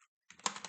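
Quick typing on a computer keyboard while entering code, a short close burst of several soft key clicks after a brief silence.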